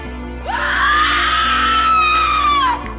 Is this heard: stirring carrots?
no